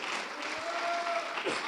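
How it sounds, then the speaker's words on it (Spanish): A church congregation claps together in praise during a Spanish-language service, a steady mass of hand clapping with a voice briefly audible beneath it. "Démosle palmas al Señor, porque vamos camino al cielo."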